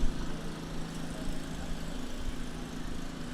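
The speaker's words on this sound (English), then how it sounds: "the noise you might be hearing on our sound effects microphone is a gentleman with his lawnmower down on the grass bank below the main stand" An old, very noisy lawnmower runs on a grass bank below the main stand at a cricket ground, giving a steady droning engine hum that holds without a break, with no talk.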